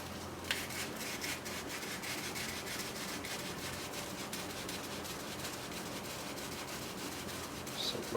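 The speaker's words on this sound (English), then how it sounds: "Gonna do a quick polish on this side." Steady, continuous rubbing of 1000 grit sandpaper as a part from a Team Losi RC car is polished by hand, a soft rasping texture close by with no talk.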